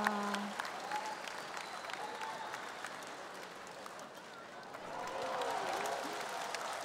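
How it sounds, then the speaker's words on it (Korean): A large audience applauds after a taekwondo demonstration at the 2019 Chungju World Martial Arts Masterships opening ceremony, steady broad clapping from a distant crowd that continues throughout and swells slightly near the end. "박수 보내주시기 바랍니다."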